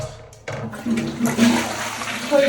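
A toilet flushes inside a house, a sudden loud rush of water swirling and draining, close to the listener and heard alone.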